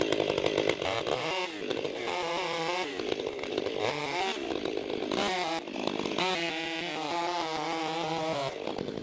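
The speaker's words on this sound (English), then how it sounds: "I can play with chainsaws all day" A larger chainsaw cuts through wood, its engine snarling loud and close throughout, rising and dipping in pitch as the chain bites and revs.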